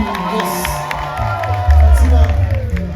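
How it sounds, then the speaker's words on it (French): A concert crowd in Hinche cheers and claps, a dense wash of noise with scattered whoops that swells louder toward the end, while a voice speaks over it. "Applaudissez plus fort."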